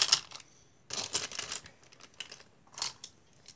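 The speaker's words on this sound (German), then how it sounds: "dann tue ich die Stifte mal rein." Pens are dropped one after another into a fabric pencil case, making soft, scattered clicks and rattles in several short bursts with quiet gaps, close and faint.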